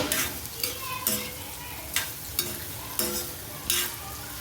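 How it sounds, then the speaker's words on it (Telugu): Onions frying in a pan for a Telugu-style chicken fry, with a steady sizzle broken by about six scraping stirs at irregular intervals, close and fairly loud, no talking. "ఇప్పుడు ఉల్లిపాయలు వేసుకుందాం చికెన్ ఫ్రైకి."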